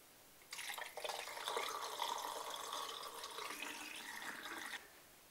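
Black-and-white film developer liquid poured into a developing tank, a steady splashing pour lasting about four seconds, close and fairly quiet, starting and stopping abruptly.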